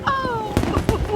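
Fireworks going off over Waikiki, a couple of quick muffled bursts heard behind a woman's high, drawn-out exclamation.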